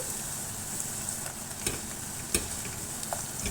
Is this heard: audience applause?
no